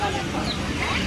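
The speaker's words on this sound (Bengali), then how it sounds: "এই একটা মুরগি দেখতে পাচ্ছেন" Chickens cluck and fuss in a crowded poultry market, a brief dense burst of fowl noise close by.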